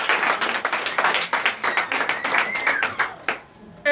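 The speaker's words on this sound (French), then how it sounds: "Donnez de vive acclamation à notre Seigneur." Church congregation at a Sunday worship service in Comè, Benin, clapping rapidly and loudly in a dense rhythmic flurry mixed with acclaiming voices, fading briefly before a last burst.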